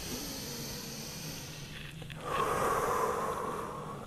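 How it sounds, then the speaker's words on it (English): A long, close breath during a handstand mobility exercise, beginning as a soft airy hiss and then growing into a louder, fuller rushing breath that fades toward the end. "So big breath in."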